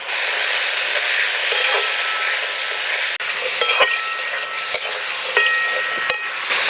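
Chopped kakrol (spiny gourd) sizzles in hot oil with peanuts, garlic and green chili, a steady loud frying hiss with a few sharp clinks of a utensil against the pan partway through.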